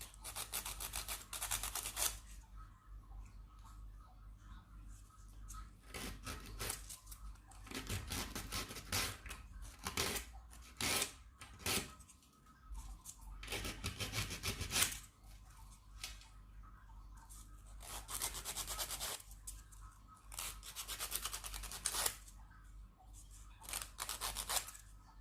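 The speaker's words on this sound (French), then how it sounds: "Ça se lime bien." Metal file rasping on a small cast resin piece, in repeated short bursts of scraping strokes with quiet pauses between, close and fairly faint.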